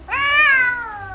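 A cat gives one clear, drawn-out meow, rising and then sliding down in pitch, close and loud, while its ears are being cleaned.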